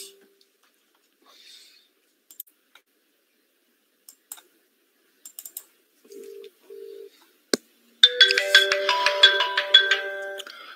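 A desk telephone in a 3CX call group rings loudly in the last few seconds with a bright warbling ring, after sparse clicks and short beeps while the call is placed.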